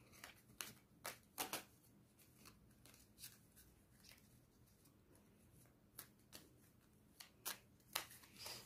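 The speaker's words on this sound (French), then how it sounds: "maintenant on va aller battre les cartes intuitives" Oracle cards are shuffled by hand in quick riffling bursts, crisp and near but quiet, in irregular clusters with pauses between them and no talking.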